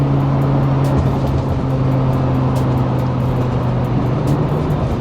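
A 2009 Lamborghini Gallardo LP560-4 with a twin-turbo engine pulls hard under load, a loud, steady drone with a constant low engine hum, close and continuous throughout.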